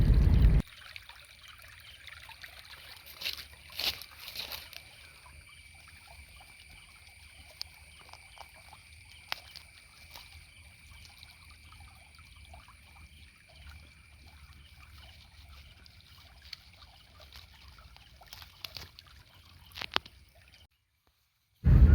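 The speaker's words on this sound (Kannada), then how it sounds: "ನೋಡಿ ಇಲ್ಲಿ ಹರಿತಾ ಇರುವ ತೊರೆ" A small stream trickles quietly and steadily, a faint continuous babble that fades away near the end.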